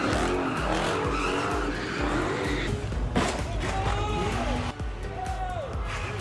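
Fast, loud cars skidding at a street sideshow takeover of an intersection, with repeated tire squeals sliding in pitch over roaring engines and crowd noise, close and continuous throughout.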